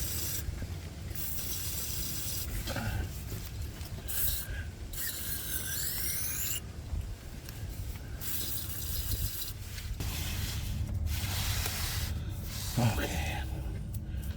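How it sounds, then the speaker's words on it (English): Brake cleaner sprays in several hissing bursts of a few seconds each onto a transmission line of a Dodge Dakota, close to the microphone, separated by mechanical clicks and rattles, with someone talking underneath. "spray this with some brake cleaner"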